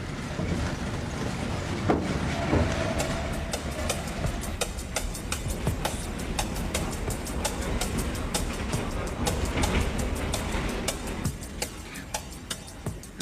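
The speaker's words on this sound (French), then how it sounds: "Le métro aérien du Loop de Chicago est un bon début pour une enquête de ce genre." A Chicago Loop elevated metro train running, a loud continuous rumble with rapid clattering of wheels over rail joints throughout.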